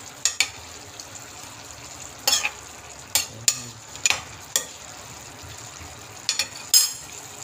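Pork and sayote sauté in a pan under a steady low sizzle, punctuated by about a dozen scraping stirs of a utensil against the pan at uneven intervals.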